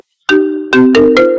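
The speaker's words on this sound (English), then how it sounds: "Oh, we got a phone." A phone ringtone starts after a short silence and plays loud, close electronic chime tones in a repeating melodic pattern of several quick notes, without talk.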